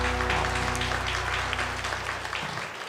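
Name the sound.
congregation clapping hands in church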